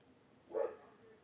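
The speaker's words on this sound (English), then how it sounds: "It's my dog." A single short dog bark, moderately loud and nearby, stands out against a quiet, steady background.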